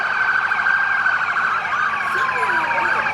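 Police, sheriff and fire department vehicle sirens wail together at the 2021 Harrison Christmas parade, loud and continuous, with several overlapping tones sweeping up and down over street noise.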